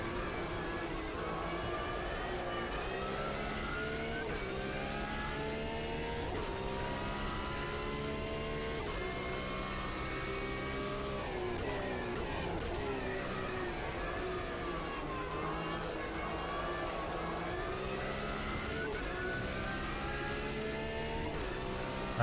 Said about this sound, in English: the sound of this car is so bad.